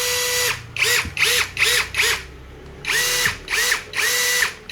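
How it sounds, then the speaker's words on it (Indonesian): An Isku 21V cordless drill whirs in a series of short, quick bursts, each revving up and stopping, loud and nearby. "Seperti apa bunyi raungan dari bor sombong merek Isco teman-teman ya."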